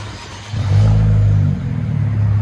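A 2017 Infiniti Q50 3.0L with an X pipe and muffler delete revs up from idle into a loud, sustained deep exhaust drone, then eases back slightly while still running strong, close to the listener.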